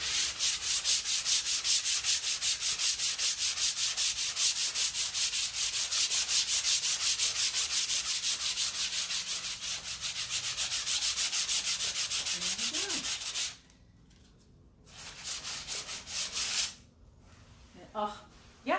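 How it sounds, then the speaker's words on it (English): Rhythmic rubbing strokes of a damp cloth over painted upholstery fabric, quick and steady for a long stretch, then pausing briefly before a few more wipes. "I'm going to apply a damp cloth to get rid of any dust."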